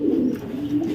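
Pet pigeon cooing, a young squab not yet paired, a steady low murmuring coo running through the whole second, close and fairly loud.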